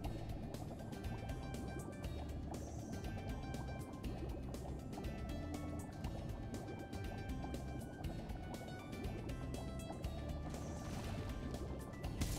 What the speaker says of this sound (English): Let's do the water warp again.